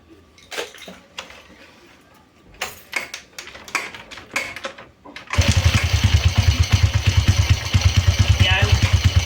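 A motorcycle engine fires up after several knocks and clatters and settles into a loud, steady idle with a rapid pulsing beat, worked on during a check of a full-wave or half-wave stator's charging output.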